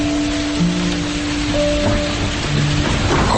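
Heavy rain with thunder around a school in the evening, a steady dense hiss of downpour filling the scene with low rumbling underneath and a few faint tonal sounds, continuous and fairly loud with no talking.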